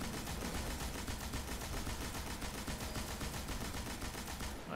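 Hand cannon fire in the video game Destiny, a dense, steady barrage of gunshots that continues loudly and evenly throughout with no speech.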